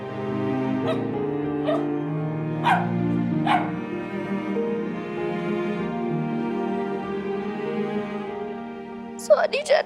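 A dog whimpers and whines in drawn-out tones, with a few sharp yips along the way and a burst of quick barks at the end, all over a steady musical background.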